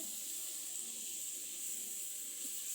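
Marinated duck meat sizzles in a wok with a steady, even hiss that holds at a constant moderate level throughout, with no voices.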